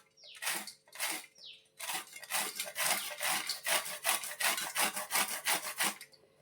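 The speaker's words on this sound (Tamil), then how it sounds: "இதை லைட்டாக அப்படியே துருவி எடுத்துக்கலாம்" A carrot is rubbed over a hand grater for a Tamil recipe, giving quick rhythmic rasping strokes, a few spaced at first, then a fast even run, close and with no talk.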